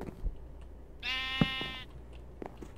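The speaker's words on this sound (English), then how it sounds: "My sheep getting in my way." A sheep bleats once in Minecraft, a single drawn-out, wavering bleat of about a second, fairly faint and standing alone amid soft game sounds.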